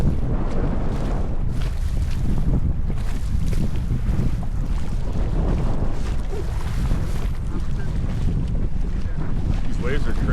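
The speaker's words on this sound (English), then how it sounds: "These waves are crazy." Rough waves on Mono Lake slap against a small boat amid strong, constant wind rumble buffeting the microphone, a dense, unbroken wash of water and gusts.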